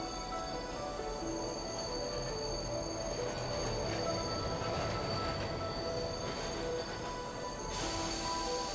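A train rolls steadily along the rails as it approaches a station, wheels squealing and grinding against the track with a continuous rumble that swells slightly and stays loud throughout, with no voices.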